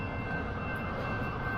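A train passes as a steady, loud low rumble with a faint high whine held throughout, heard from nearby while waiting at a crossing.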